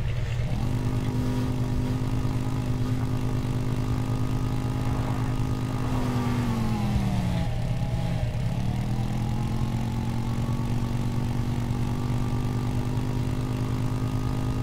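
A bike engine in the Empyrion video game drones steadily and loudly, its tone sagging and dipping midway as if labouring, then recovering, with no talking.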